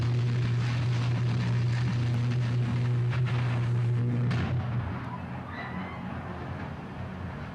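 An oil-filled electrical transformer failing under internal pressure, a loud roaring burn with a strong steady hum for about four seconds before it drops into a fainter crackling fire.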